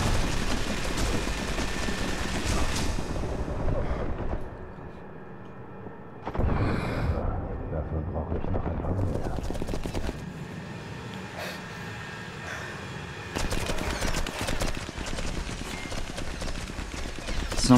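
Gunfire in the video game Sniper Elite, bursts of shots and impacts crackling in loud stretches broken by a quieter gap, with game ambience between them.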